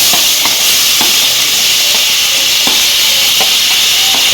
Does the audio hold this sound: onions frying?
yes